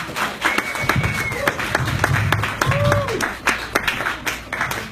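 Audience applause and clapping at a stand-up comedy show for comedian James Ankler, a steady crowd patter of claps lasting throughout, with scattered sharp taps and a voice talking over it.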